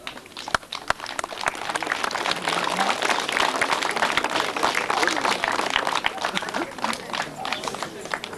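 A village crowd applauds during a 9 May 1995 ceremony in Kosari marking the 50th anniversary of Victory, with names read out for awards. Dense, steady clapping fills the whole stretch, and a voice speaks over it.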